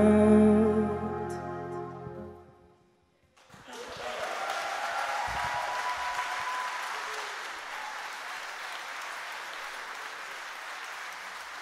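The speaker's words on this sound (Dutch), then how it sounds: "mag ik een heel groot applaus voor de 170-jarige Koninklijke Harmonie, de Eendracht" A large audience applauds the 170-year-old Koninklijke Harmonie de Eendracht in Geertruidenberg, with sustained dense clapping rising right after the band's final held notes and continuing steadily to the end.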